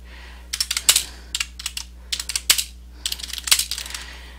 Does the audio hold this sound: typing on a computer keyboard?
yes